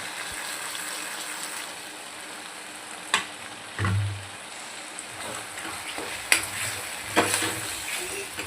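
Washed mixed lentils added to a hot pan for a mixed dal sambar, with a soft sizzle and several short splashy stirring thumps spaced across the clip, close and moderately loud.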